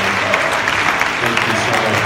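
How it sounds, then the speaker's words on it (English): Audience at a college institution event gives a round of applause for a guest, a short, loud burst of steady clapping from many people with a faint murmur of voices underneath. "give him a round of applause for coming"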